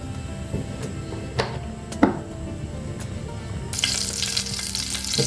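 Garlic fries in coconut oil for a Sri Lankan pork curry: a low sizzle with a few utensil knocks, then a louder hissing surge of frying near the end.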